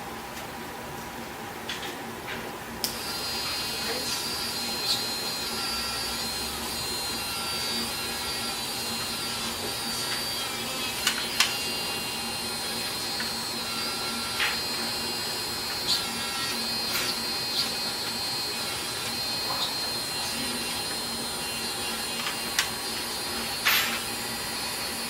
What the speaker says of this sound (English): I emphasize the polishing of the ridges.